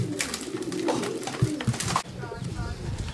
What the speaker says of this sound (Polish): Przyszedł kolejny gołąb